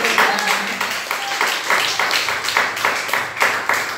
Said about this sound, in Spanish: Es un fuerte aplauso a Dios.